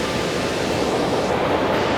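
A waterfall in Kerala where people swim and shower pours in a dense, steady rush of broadband noise, loud and close with no break.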